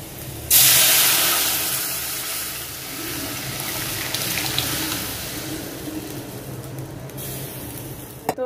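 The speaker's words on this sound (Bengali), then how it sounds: "ডালটা বাগার দিয়ে নিচ্ছি, পেঁয়াজ আর হচ্ছে আদাটা ভেজে নিলাম।" Onion and ginger dropped into hot oil to temper dal burst into a loud sudden sizzle, then settle into a steady crackling hiss that fades slightly as they fry.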